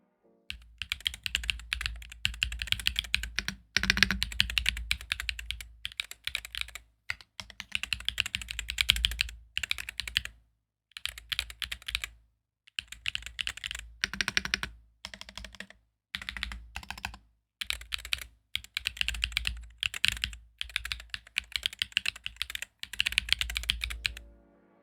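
Typing on a Mchose Ace68 keyboard with Hall effect magnetic switches, a steady stream of close, crisp keystrokes in bursts separated by brief pauses, with no talking.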